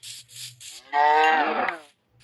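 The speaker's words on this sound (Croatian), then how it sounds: "Opa, evo su krave." Cows moo in the Minecraft survival video game, one long, loud, drawn-out moo preceded by soft scuffing game noises, with no voices.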